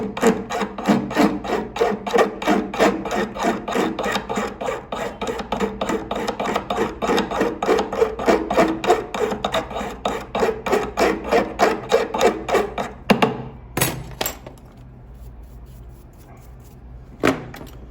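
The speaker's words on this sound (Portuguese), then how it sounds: "Vou limar aqui no ar, mostrar." A metal chevalier signet ring being filed by hand in a workshop: fast, steady rasping strokes, close and loud, keep up for about thirteen seconds, then stop and give way to a few scattered scrapes and knocks.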